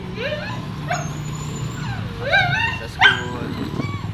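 Papi, a dog tied up on a leash, gives several high whimpering yips and whines in short bursts over steady low background hum, with a person talking nearby.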